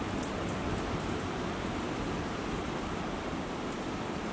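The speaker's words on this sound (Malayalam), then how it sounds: "അപ്പോൾ മഴ അധികം പെയ്യണില്ല" Light rain falls steadily, a constant, even hiss of drops with no breaks and no voices, soft and moderately distant throughout.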